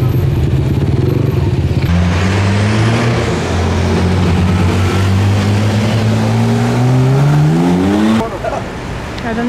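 A gold Lamborghini Aventador SVJ Roadster supercar at the Zoute Grand Prix, its loud engine rising in pitch as it accelerates past close by, then fading slightly as it moves away.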